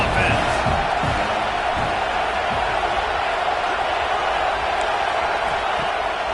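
A college football stadium crowd at an Auburn versus Georgia night game roars as one steady, loud wall of noise that holds for the whole stretch, with no clear gaps or breaks.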